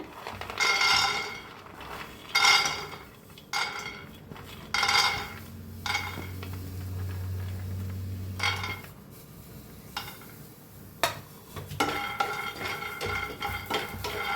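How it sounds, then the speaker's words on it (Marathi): Peanuts being roasted and stirred in a kadhai on a gas stove, with repeated bursts of scraping and clinking against the pan and a low steady hum from the burner between them, close and fairly loud. "गॅसवर ठेवलेला आहे कढाई आपण शेंगदाणा भाजून घेऊया"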